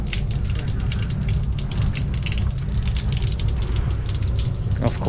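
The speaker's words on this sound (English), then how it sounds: "Let's let this drip out, see if that's just the remaining water" Residual water drains steadily from a leaking York fan coil unit in a continuous gushing, splashing wash, with scattered louder drips and faint background voices.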